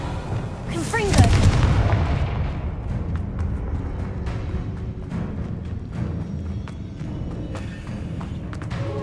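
A video game blasting spell bursts with a loud, rumbling explosion early on, its heavy roar fading into a busy bed of crackling debris and sharp impacts that continues to the end.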